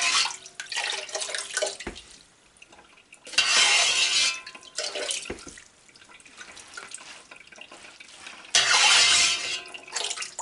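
Cheese curds of homemade sheep's milk Gouda scooped out of whey, several bursts of splashing and sloshing water separated by quieter dripping pauses, close and moderately loud.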